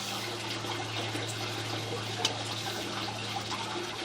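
Water pooled in a shallow belly of a sewer pipe, a low steady trickle and gurgle under a constant mechanical hum, with one brief tap midway.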